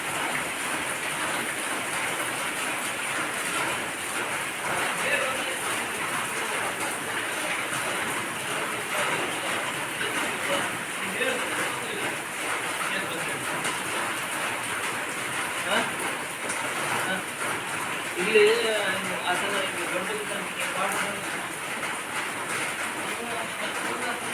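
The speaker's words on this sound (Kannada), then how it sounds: "ಇವಾಗಲೇ ಬಂದಿದ್ದು ಬಿಸಿಲು ಮಳೆ" Steady sunshower rain falls in a continuous broadband hiss, moderately loud and unbroken throughout, with faint background sounds.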